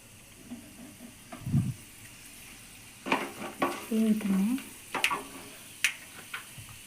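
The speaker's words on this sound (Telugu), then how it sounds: "ఒక మూడు స్పూన్ల ఆవాలు ఉద్దిపప్పు చూడండి ఆవాలు ఉద్దిపప్పు వేసాను" Mustard seeds and urad dal fry in hot oil for curry leaf rice. Close, scattered sizzling bursts and sharp crackles pop irregularly over a quiet background.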